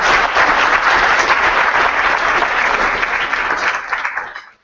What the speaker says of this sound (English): So just a quick round of applause for ToolBanks